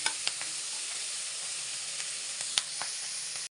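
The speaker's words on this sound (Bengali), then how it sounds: "লবণ দিয়ে পেঁয়াজ পাতাটা ভেজে নিচ্ছি" Spring onion leaves with green chili, turmeric and salt frying in a pan give a steady, close, bright sizzle with a few sharp pops, running alone for a few seconds before cutting off abruptly.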